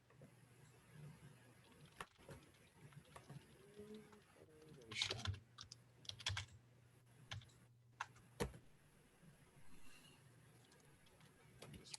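Someone types at a computer keyboard, and scattered key clicks come in short bursts and single taps across the stretch. There are quiet pauses between them and faint background sounds underneath.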